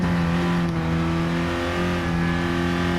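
A 2014 Honda Fit driven hard on a race track, its engine holding a steady, strained, droning note with strong harmonic hum throughout the short stretch, close and continuous.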